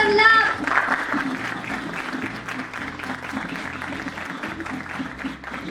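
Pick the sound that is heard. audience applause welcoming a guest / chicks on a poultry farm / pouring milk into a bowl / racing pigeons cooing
audience applause welcoming a guest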